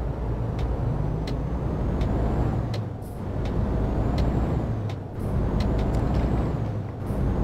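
An Iveco truck in Euro Truck Simulator 2 rumbles steadily up close while its air brakes release in repeated sharp hisses and clicks, with short dips in the engine drone between them.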